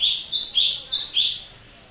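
A cucak cungkok songbird sings loud, close, high whistled phrases, four or five bright notes in quick succession with no other sound behind them.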